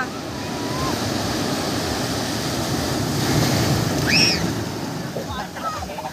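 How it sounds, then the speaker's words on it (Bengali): A big ocean wave surges and crashes on a beach, a broad roar swelling toward the middle and ebbing away, with wind buffeting the microphone and people talking and shouting nearby. "আরেকটা বড় ঢেউ আসছে, পেছন ঘুরে দাঁড়া।"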